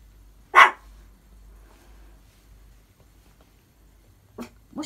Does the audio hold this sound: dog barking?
yes